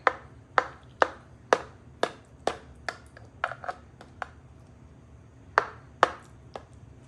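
A knife cutting through a baked dairy-free lasagna, with sharp distinct knocks of the blade against the board in an irregular series of about a dozen strokes, close and clear with no talking.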